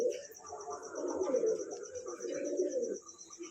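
A pet pigeon gives soft, throaty rolling coos up close, two long warbling phrases over about three seconds with a faint high background tone.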